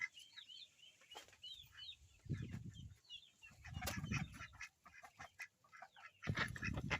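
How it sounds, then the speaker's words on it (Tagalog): Ducks on a backyard farm, including two baking ducks and young itik, quack and honk in low, throaty bursts near the listener while chirping birds twitter higher in the background throughout. "Ito yung dalawang baking duck natin."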